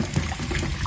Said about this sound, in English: I will pour the tomatoes in.